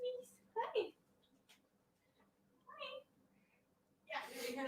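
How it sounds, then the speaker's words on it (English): A pet cat named Frank meows a few times, close and soft, in a quiet room, with a person speaking near the end. "did you hear that meow?"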